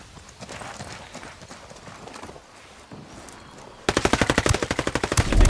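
Rapid automatic gunfire in the video game Ghost War, bursting loud and close in a fast rhythmic stream near the end after quieter scattered shots and ambience.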